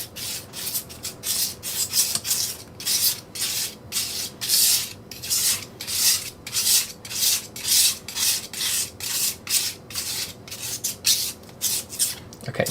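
Icelandic earth pigment being wetted and mulled on a slab, a steady run of rhythmic gritty rasping strokes, about two a second, close and moderately quiet with no talk.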